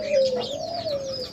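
Pet doves in a cage indoors give a single close, soft cooing call, a steady low note lasting over a second, with faint chirps around it and no talking.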